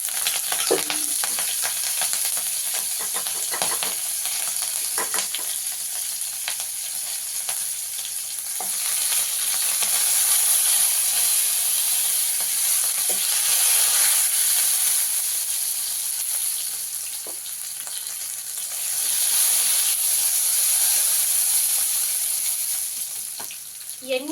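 Mustard seeds, cumin and green and red chillies sizzle in hot oil, giving a steady loud frying hiss with faint crackles and stirring throughout; no voices.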